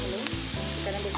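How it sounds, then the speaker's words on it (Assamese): Spiced onions and tomatoes frying in a pan with chili powder, salt and turmeric, giving a loud, continuous close sizzle with a stirring scrape partway through. "এইখিনি এতিয়া ধুনীয়াকৈ ভাজি লৈছোঁ"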